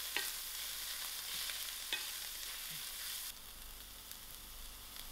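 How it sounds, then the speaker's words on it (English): Chopped onions and leek fry in a pan, giving an even, continuous sizzle with a few soft scrapes as the mixture is stirred, quieter near the end. "I'm just going to add in my leek to my onions. Give this a nice mix."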